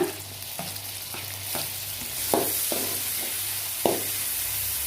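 A steady hiss of chopped tomatoes frying in a pan for egg gravy, with several soft scraping stirs at intervals, close and continuous.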